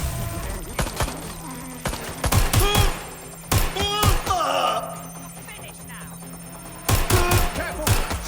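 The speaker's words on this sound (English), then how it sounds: "Shots fired! Please, I need help! Taking fire! Guns fired! Suspect has opened fire!" Bursts of gunfire in the video game Watch Dogs Legion, clustered sharp shots in three volleys with gaps between, fairly close, with shouted voices and a steady background hum.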